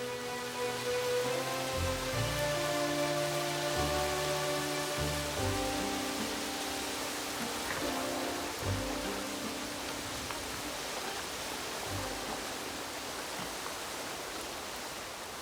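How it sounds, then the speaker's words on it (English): Water pouring out of the jungle into the Pongo canyon, a continuous broad rushing wash heard at a distance beneath sustained, tonal background music. "The only sound is from the water pouring out of the jungle, carving a weird and wonderful architecture on the canyon walls."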